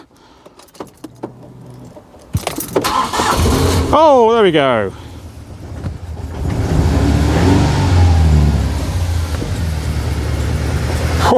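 A Ford Mondeo Mk3 engine with suspected worn piston rings cranks and fires, then settles into a loud, steady run after the crank, with a person talking briefly over the start.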